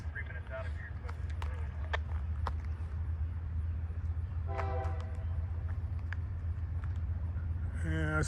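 A westbound train passes Haley Tower in Terre Haute, Indiana: a steady low rumble of rolling cars with brief horn notes, while a person talks nearby.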